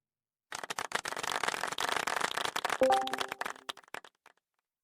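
A few people clap in a quick, uneven patter for about four seconds during a fan-fiction readalong. The claps are close and clear, then thin out before stopping.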